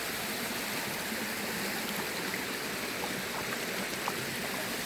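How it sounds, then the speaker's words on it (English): Brook water in Northern Maine flows and splashes steadily around someone wading on a hot day, a dense, close broadband rush with no talking. "we're going to get walking in the river"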